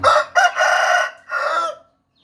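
A rooster crows loudly and close by, one full cock-a-doodle-doo call in several bursts, then silence.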